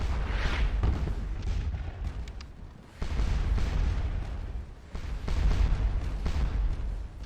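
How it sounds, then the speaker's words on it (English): Napoleonic cannon artillery in the Waterloo strategy game Scourge of War fires in rolling booms, deep distant rumbles overlapping in continuous waves with a couple of sharper reports, no voices over it. "I have enough cannon to keep this going for a while."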